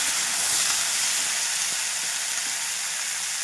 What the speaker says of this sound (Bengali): এবার কেটে রাখা সবজিগুলো ভেজে নেব